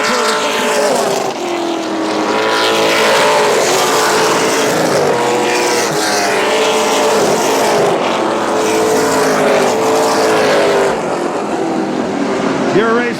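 Race cars circle a Central Texas speedway track, engines roaring loudly and continuously with repeated pitch sweeps as the pack passes, while an announcer talks over the noise.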